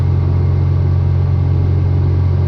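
A Cessna 170 plane engine runs at full RPM during a low-horsepower climb at high density altitude, a loud, steady, droning rumble heard from inside the cockpit with no break.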